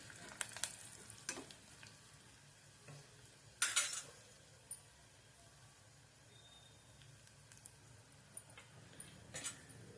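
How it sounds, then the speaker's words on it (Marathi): Peanut powder masala roasting in oil in a pan, a steady low sizzle with occasional scrapes and one louder clatter of a spoon against the pan. "हा मसाला मस्त तेलामध्ये एक ते दोन मिनिट मस्त भाजून घ्यायचा आहे"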